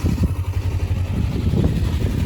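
Kawasaki GPZ 500S motorcycle engine after a timing, valve and carburettor service, running steadily with a low, even throb close by, no talk over it.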